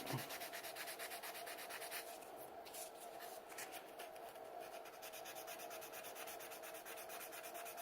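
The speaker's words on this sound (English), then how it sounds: "sanding sponge and clean the rest of it up" Continuous rubbing scrape of a sanding sponge worked over a resin sculpture of a 1/4-scale Hulk figure, close and steady with slight changes in stroke.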